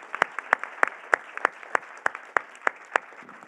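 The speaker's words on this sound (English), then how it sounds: "please give the panelists a warm welcome and an applause" An audience at a policy panel on raw materials partnerships claps for the panelists with sharp, evenly spaced beats at a steady rhythm over a low background murmur.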